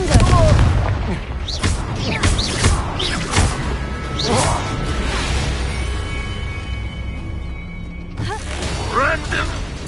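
Spell explosions and impact blasts from Confringo casting in Hogwarts Legacy, a dense run of loud booms, crashes and whooshes packed close together, with a voice talking over the combat throughout.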